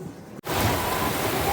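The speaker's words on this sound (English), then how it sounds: "Just a little bit of rain." Steady rain hisses and patters across a surface after a brief quiet moment, close and fairly loud, with no voices.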